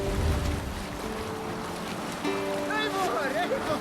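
A Viking longship in a video game glides over ocean waves, with steady wind and water rushing throughout while voices call out over it and rising chanting tones enter near the end.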